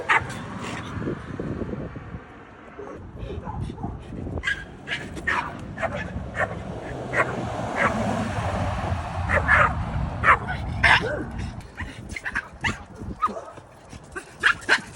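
Puppies yipping and barking in quick scattered bursts, with whimpers between, close by over a low room background and some talking.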